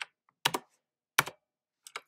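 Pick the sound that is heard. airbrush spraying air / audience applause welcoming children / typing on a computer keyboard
typing on a computer keyboard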